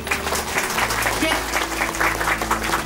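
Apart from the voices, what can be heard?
audience applause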